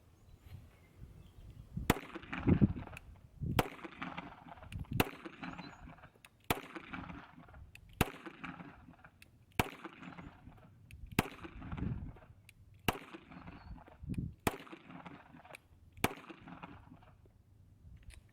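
A SCCY CPX-2 pistol with a new slide, barrel and guide rod fires test rounds outdoors, sharp single shots cracking at a steady, evenly spaced pace of about one every second and a half, fairly faint and distant.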